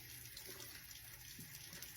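Running water pours steadily over a dive mask being rinsed, a quiet, continuous hiss and splash that stays even throughout with no talking.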